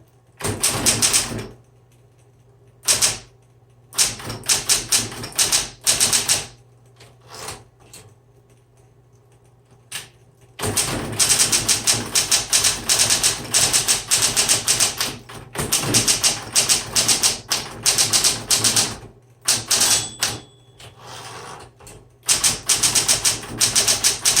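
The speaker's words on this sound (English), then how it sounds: "It's just a good everyday typewriter." Rapid typing on a 1960s Smith Corona Coronet Electric 12 typewriter, loud crisp key strikes in irregular bursts with short pauses and an electric motor hum underneath, then a long dense run of clacking.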